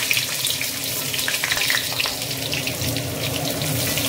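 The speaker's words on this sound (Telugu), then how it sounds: "వేగాకి ఇప్పుడు ఆనియన్స్ వేస్తున్నాను." Onions fry in a pan of oil for coconut rice, giving a steady, close hiss of sizzling with a bright, continuous crackle and no voices.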